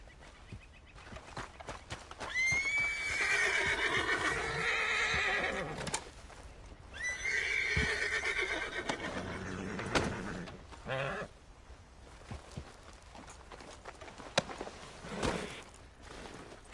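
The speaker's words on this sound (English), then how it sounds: "Get me off this horse!" In Red Dead Redemption 2, a horse gives loud, drawn-out neighs over a steady clip-clop of hooves, followed by quieter hoof sounds and scattered knocks.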